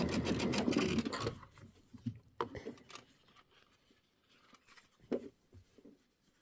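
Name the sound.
sewing machine stitching quilt block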